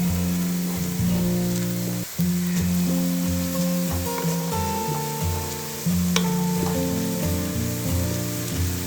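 Sliced onions fry in hot oil until golden for chicken biryani, giving a loud, steady sizzle that runs unbroken except for one short dip, with a tonal drone beneath it.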